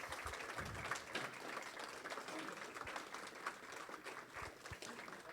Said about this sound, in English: I want you to give these guys a round of applause